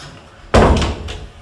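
An indoor door is pushed shut with a single solid thump after a quiet moment, followed by a short rattle and a fainter knock as it settles.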